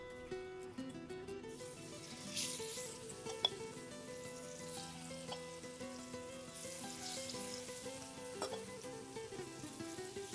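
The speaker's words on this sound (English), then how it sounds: "I'm gonna go ahead and add the shrimp and give it a quick saute." Shrimp sautéing in shimmering oil in a pan, a soft continuous sizzle with occasional stirring clinks, quiet and close, no talking.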